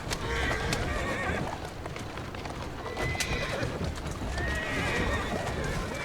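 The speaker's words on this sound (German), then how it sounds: "Eine Kutsche entführen." A horse-drawn carriage in the video game Assassin's Creed Syndicate: steady clip-clopping hooves and rolling rumble with repeated horse whinnies, while someone talks over it throughout.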